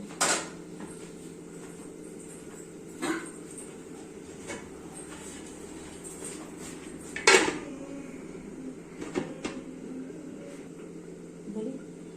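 A lid is set onto a cooking pot of jackfruit and potato curry simmering in a little water, giving a sharp metallic clank midway among a few softer clinks in an otherwise quiet kitchen.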